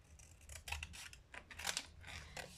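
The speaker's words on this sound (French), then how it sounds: "Et on va découper pour pouvoir" Scissors snipping through paper for a scrapbooking project, a quick run of crisp, close cuts in uneven rhythm with small rustles between strokes.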